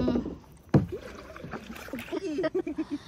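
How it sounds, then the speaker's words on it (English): Kayak paddling through mangroves at Delta Point Beach, Kodi Bengre, Udupi: a sharp splash near the start, then a steady run of rhythmic paddle strokes dipping into the water, with people chatting alongside. "I'm going paddling"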